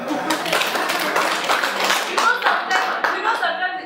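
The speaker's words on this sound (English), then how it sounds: "Please let's clap for her." A burst of applause from an audience at a speech, steady clapping for a few seconds.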